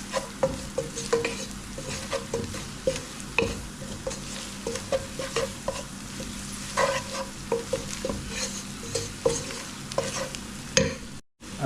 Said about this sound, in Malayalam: നമുക്ക് നന്നായിട്ട് ഇതിനൊന്ന് വഴറ്റി കൊടുക്കാം